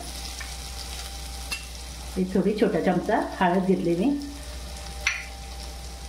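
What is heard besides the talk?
tempering of chilli and ginger sizzling in a pan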